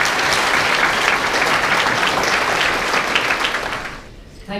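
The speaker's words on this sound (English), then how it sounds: "So a round of applause for that as well, please" An audience at a community People of the Year awards ceremony in Ballinasloe claps in a sustained, dense burst of applause that fades out near the end.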